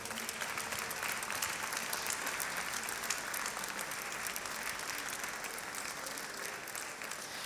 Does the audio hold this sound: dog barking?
no